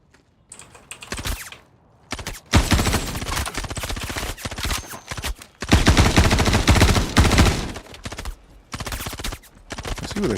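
Gunfire from another player in Star Citizen, loud dense bursts of rapid shots that come and go over several seconds, mixed with quick keyboard tapping.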